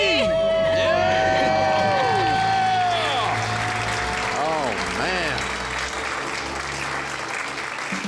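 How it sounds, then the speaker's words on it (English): A large audience screams, cheers and claps in celebration of becoming debt-free, a loud sustained roar with whoops that slowly tapers, and a voice shouting over the crowd early on. "Let's hear a debt-free scream."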